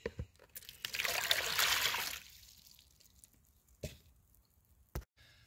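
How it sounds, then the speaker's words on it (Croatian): Lukewarm water poured into a container, a litre measured for a garlic solution against tomato diseases, heard as a brief splashing trickle for about a second, followed by quiet handling knocks and thumps. "Za ovaj rastvor prvo u jednu posudu sipamo litru mlake i vode."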